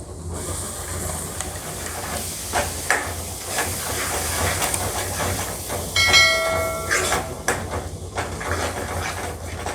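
Ground spice paste for a black nightshade berry (manathakkali) curry hisses and sizzles in hot oil with a steady crackling spatter, punctuated by a few clinks of a utensil against the pan.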